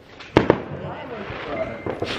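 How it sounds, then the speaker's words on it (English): Fireworks being set off outdoors, with two sharp close bangs early on and further pops near the end, heard over steady background noise and faint talk. "Show them the fireworks."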